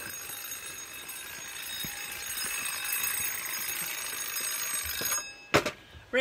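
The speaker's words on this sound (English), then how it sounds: "that'll be the phone." A telephone bell rings steadily for about five seconds on a live radio show, then stops abruptly, followed by a couple of brief knocks as the receiver is picked up.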